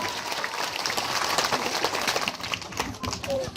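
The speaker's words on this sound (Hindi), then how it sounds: "एक जोरदार ताली महाराज जी के लिए।" Audience applause at a Bhagwat Katha religious discourse, a dense, steady wash of many hands clapping for the Maharaj, sustained at moderate loudness with crowd murmur beneath.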